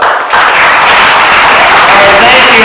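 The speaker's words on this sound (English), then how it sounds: "so a round of applause." Audience applause at a Q&A session with Rep. Peter Welch, a loud, dense burst of clapping filling the whole stretch after a brief quiet opening, with faint voices mixed in.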